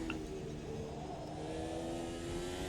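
A simulated 2022 Formula 1 car in a racing video game holds a steady, whining engine tone at moderate revs, sustained and even with no talk over it.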